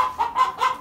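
Short clucking calls from an Aseel rooster, a few soft repeated bursts close by with no talking.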